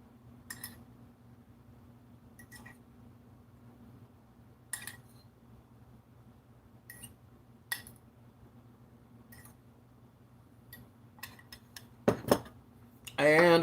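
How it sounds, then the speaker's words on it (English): A spoon lightly stirring food in a pot during home cooking, sparse quiet metallic clinks and scrapes spaced a few seconds apart over a low hum, ending in a louder clatter of cookware. "Give that a light stirring."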